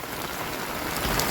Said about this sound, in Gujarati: વરસાદ મિત્રો બંધ થવાનું નામ જ નથી લેતો